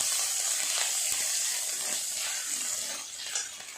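Onion, ginger and garlic frying in a hot pan with whole spices, giving a steady bright sizzle that hisses close and loud throughout, with soft stirring scrapes under it and no voices.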